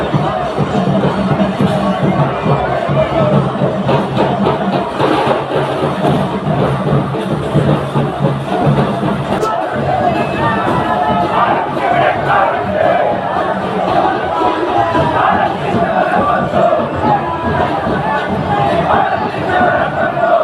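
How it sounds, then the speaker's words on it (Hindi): A large, dense crowd chants and shouts continuously at an outdoor BJP election nomination rally for candidate K. Surendran with Smriti Irani in Wayanad during the 2024 Lok Sabha election, a loud unbroken roar of many voices. "भीड़ का नजारा कुछ ऐसा था"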